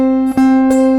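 Guitar sounds an octave from C up to the next C, a sustained close tone with two brief pluck attacks in quick succession ringing on without any voice.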